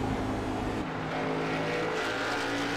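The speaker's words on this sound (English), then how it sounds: "You can listen to the motors and listen to how he's running." Race car engines roaring around ISM Raceway in a sim racing game, a loud, steady droning motor tone that shifts pitch slightly as the cars run close by.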